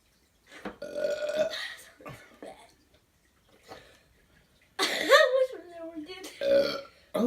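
A nine-year-old child burping after drinking soda, with several loud, drawn-out croaky belches close to the mic, separated by quieter breathy gaps.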